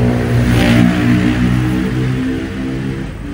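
A vehicle engine runs close by and revs up early, then eases back to a steady idle rumble with a light mechanical whir.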